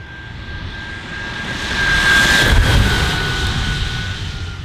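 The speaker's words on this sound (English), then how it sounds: "When you give it some, it sounds like a jet engine." An electric skateboard motor under hard acceleration gives a jet-like whine, a steady high tone over broad rushing noise that swells in the middle and then eases, heard alone without talk.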